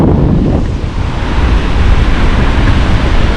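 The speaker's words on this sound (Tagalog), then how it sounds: "Sobrang alon." Big waves at a river mouth during a long spell of strong wind: loud, continuous surf roar with heavy low rumble and wind buffeting the microphone throughout.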